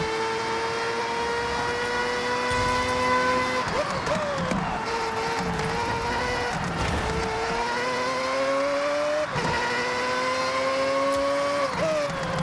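A race car engine in Forza Horizon 6 roars continuously at high revs and echoes off a nearby wall, with sharp gear-shift drops around every few seconds before the pitch climbs again, loud and close throughout.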